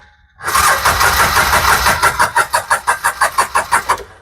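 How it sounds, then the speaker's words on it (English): A farm equipment engine is cranked with the ignition key, catches and starts, then settles into a steady, loud idle with even pulsing beats close by. "But you barely turn it to where it starts turning over, it'll fire right up."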